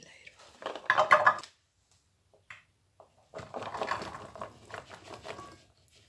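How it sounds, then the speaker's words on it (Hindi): Chana chaat being mixed in a bowl gives a burst of spoon-against-bowl clatter, then a pause before a longer stretch of softer scraping and stirring, close and moderately loud. "मैं इतना सा डाल के इसको मिक्स कर लूँगी"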